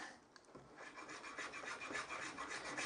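Spokeshave rounding over the edge of a wooden blank for a leather strop, held in a vise: soft, repeated rasping strokes of the blade shaving wood, close and quiet, with no talking.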